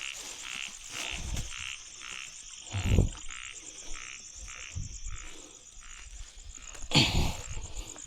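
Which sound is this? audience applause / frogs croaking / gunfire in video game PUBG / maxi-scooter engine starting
frogs croaking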